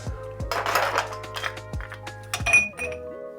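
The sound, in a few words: ice cubes clinking into a glass for a beer cocktail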